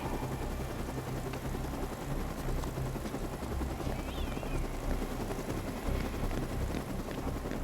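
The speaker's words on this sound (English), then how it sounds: "Get back on the chopper!" A helicopter in the video game Dead Rising 2 gives off a loud, continuous rotor and engine roar that fills the whole moment, steady and close with no clear speech over it.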